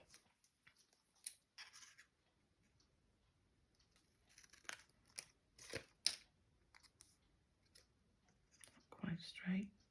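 Scissors snip through card in a few short, close cuts during a craft project, with soft quiet talk and whispering between the cuts.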